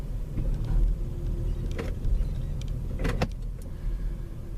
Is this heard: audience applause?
no